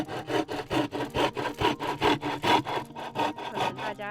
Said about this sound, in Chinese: 只能用这个锯子慢慢的锯掉